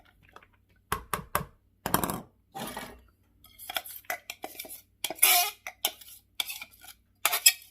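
Food dumped into a mixing bowl for pork BBQ slaw: a run of clattering knocks and scraping bursts, irregular and close, some sharp utensil-on-bowl clinks between pauses, with no talking.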